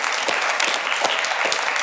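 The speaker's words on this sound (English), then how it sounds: "So if everybody could join me in a round of applause." A crowd at an Indigenous speakers series event applauds a speaker in a dense, loud, continuous wash of clapping that stays steady throughout the short stretch, close by and with no voices.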